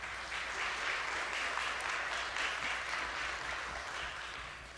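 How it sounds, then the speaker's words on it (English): An audience at a black lung summit applauds the panelists, a continuous wash of many hands clapping, fairly quiet and even across the whole stretch. "So let's give our panelists a round of applause."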